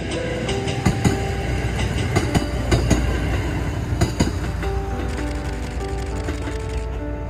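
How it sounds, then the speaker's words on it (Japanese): A train passing on the Kishin Line at sunset, a steady rumble with repeated clickety-clack wheel beats and faint squealing as the cars roll past nearby. "さあ、本日の大本命の列車がやってきました。"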